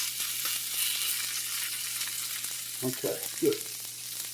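Velveted chicken fries in a pan with a steady bright sizzle, close and even, while a person says a couple of brief words near the end.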